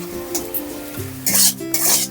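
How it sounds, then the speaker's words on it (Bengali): A metal spatula scraping and stirring wilted spinach in a pan, giving uneven rasping strokes and a couple of louder scrapes near the end, with no talking. "আমি খুন্তি দিয়ে শাকটা আরও ছোট ছোট করে দেবো।"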